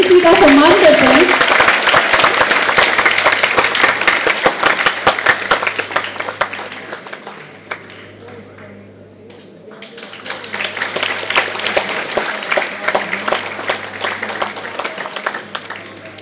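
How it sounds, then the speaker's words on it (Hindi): An audience of children applauding at a ceremony, dense sustained clapping that dips midway and then swells again, loud and close. "बच्चों तालियां तो बजनी चाहिए, किसी का सम्मान करते हैं।"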